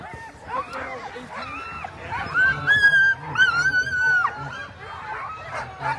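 Sled dogs at the start of the Fur Rondy sprint race on 4th Avenue in Anchorage, a crowd of them yipping, whining and barking close by with excited high calls, under a voice.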